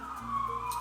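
A police car siren wails steadily at a distance beside a main road in Joondalup, a short continuous tone over low traffic rumble.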